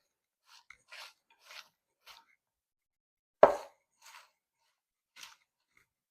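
Sausage, peppers and onions with crushed red pepper seasoning being tossed together, giving soft scattered rustles and taps with one louder thud midway, close and quiet with no talking.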